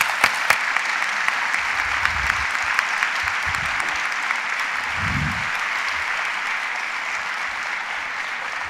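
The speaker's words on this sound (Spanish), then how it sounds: "Un aplauso." Audience at a conference event on the digital economy applauding steadily, a full, even wash of clapping with a few sharper claps near the start, lasting throughout.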